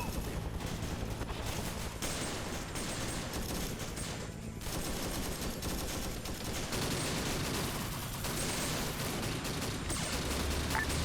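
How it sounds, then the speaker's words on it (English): Mortar and gunfire from AI enemies rumble through a video game firefight in Vietnam, a steady wash of dense overlapping shots and booms for the whole stretch. "Bro, they made a mortar"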